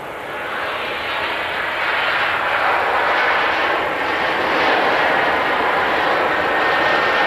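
Southwest Airlines jet airliner passing at Nashville International Airport, a loud, steady broadband engine roar sustained throughout without fading.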